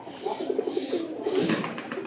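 Pigeons in a new loft coo in soft repeated throaty phrases, close and steady, over a low continuous room hum.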